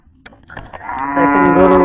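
After a few scattered knocks and thuds, a cow being unloaded from a pickup at Hazratpur cattle market lets out a long, loud, drawn-out moo nearby.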